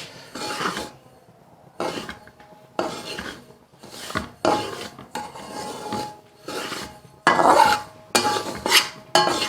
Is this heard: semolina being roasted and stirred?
yes